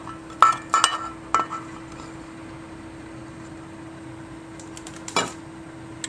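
Glassware clinks as melted gelatin is added to a durian cheesecake mixture. A few sharp, close clinks cluster early and again near the end over a steady low hum, with no talking.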